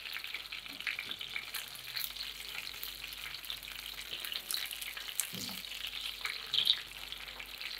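Fish fries skin side down in a pan of hot oil, giving a steady, even crackling sizzle that holds at a moderate level throughout, with a slight swell near the end and no talking.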